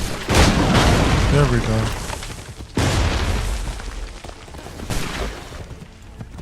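Pistol shots fired in Assassin's Creed 3, set in Boston: loud booming bursts at the start, near the three-second mark and again around five seconds, each trailing off, with someone talking briefly between them.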